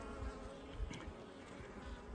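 Honey bees buzz continuously on a frame from a queenless hive, a close, steady drone with small pulses, no voices.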